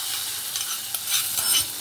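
Sizzling spice tempering poured into a pot of panchratna dal and stirred, a brief hiss with soft scraping and bubbling.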